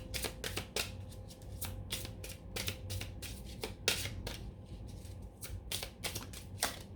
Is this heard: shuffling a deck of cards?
yes